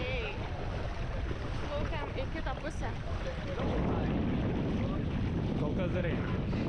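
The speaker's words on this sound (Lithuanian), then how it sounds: "Išplaukėm su valtim į kitą lagūnos pusę." A boat crossing a lagoon at Kalpitiya in Sri Lanka, with a steady broadband motor and water rush that swells louder partway through, buffeted by wind on the microphone, while a voice talks over it early on.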